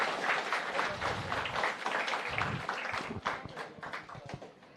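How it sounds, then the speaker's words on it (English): Fairly faint applause from an audience at an engineering college orientation programme, a scattered patter of clapping that thins out toward the end. "Please give a big round of applause to madam."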